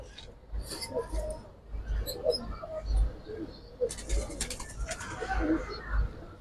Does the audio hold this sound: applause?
no